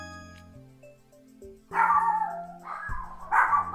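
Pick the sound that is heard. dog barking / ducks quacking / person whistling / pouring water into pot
dog barking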